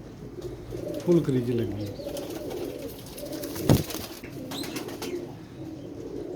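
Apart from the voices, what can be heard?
pigeons cooing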